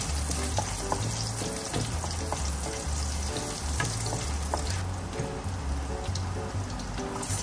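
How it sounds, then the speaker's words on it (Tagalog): Garlic fries in a pan with a loud, continuous sizzle and crackle, joined now and then by stirring scrapes, with no talking over it. "Lagay na natin yung bawang. I-brown natin siya."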